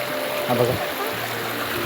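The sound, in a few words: flowing stream water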